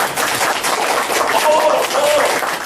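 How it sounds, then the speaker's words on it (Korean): A lecture audience at a talk on Eastern medicine applauds, a dense and steady wash of many hands clapping at close range for the whole stretch, with a voice faintly under it. "박수 한번 더 쳐주시면"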